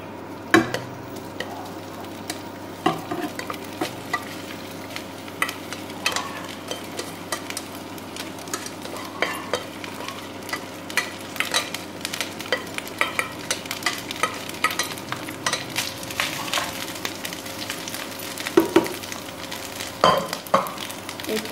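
Drained, steamed rice is stirred into a hot pan for meethe chawal, a sweet rice dessert, with a continuous close sizzle broken by frequent scraping and tapping strokes of the spoon.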